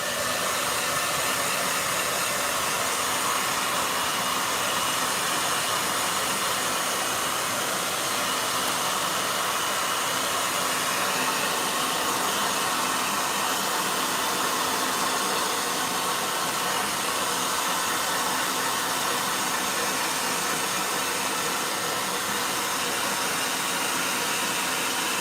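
A blow dryer runs continuously at close range with a loud steady whooshing roar and a constant motor hum that never pauses, with no voices.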